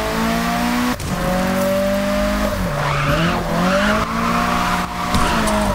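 A car drifts in the JDM racing video game, with tire squeal and a steady, revving engine note. The loud, continuous skid bends in pitch as the car slides through the corners.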